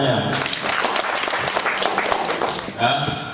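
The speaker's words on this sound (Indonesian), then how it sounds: "Ya, tepuk tangan semuanya." Workshop audience applause, a dense, steady round of clapping from a crowd lasting a few seconds, with a voice speaking briefly at the start and again at the end.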